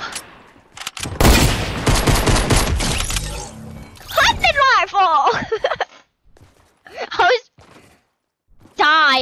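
Rapid gunfire and shattering in Fortnite, a dense burst of shots up front followed by sparse game effects and gasps, loud and close, with players talking.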